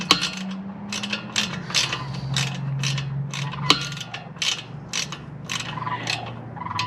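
Close ratchet clicking while a brake bolt on a Lectric e-bike is snugged down: a rapid, regular series of sharp metallic pawl ticks over a low steady hum, with no voices.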